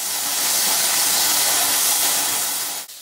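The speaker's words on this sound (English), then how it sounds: "True to its name, there's a lot of sizzle." Beef and garlic sizzle hard in a hot wok while shaking beef is stir-fried, a loud, dense, steady hiss that cuts off abruptly near the end.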